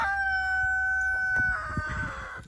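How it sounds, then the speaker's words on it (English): A rooster crows loudly and close by in a long drawn-out call, with hens clucking softly underneath. "just chickens doing chicken stuff."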